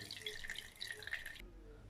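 Water trickles and splashes steadily as fresh chenna is squeezed out by hand for rasgulla, a close, soft watery patter that stops abruptly, leaving a faint low background.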